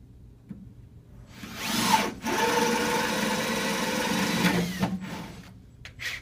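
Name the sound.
drilling a half-inch hole through a wooden stud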